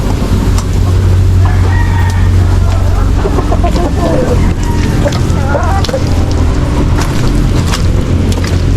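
Chickens cluck and a rooster crows amid a busy farmyard, with steady low engine-like hum underneath and occasional voices in the background.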